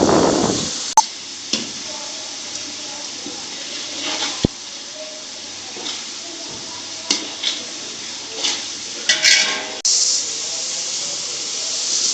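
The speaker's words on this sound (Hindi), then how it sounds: "इसी के साथ हम इसको टमाटर का मसाला भून लेंगे" Tomato masala for a five-kilo chickpea pulao frying in a pot, a steady hiss of sizzling with scattered scraping knocks of stirring, fairly close and with no talk.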